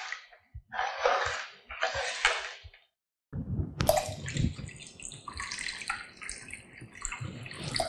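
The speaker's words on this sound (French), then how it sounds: "On rajoute de l'eau." Water pours into a pressure cooker of harira soup, a splashing, gurgling stream after a few brief sounds, then continuing steadily near the microphone.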